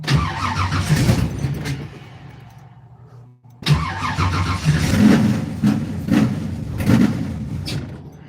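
A car engine struggling to idle, cranking and catching into rough, uneven running that fades and dies, then starts again with lumpy revs and surges, loud and close with no talking.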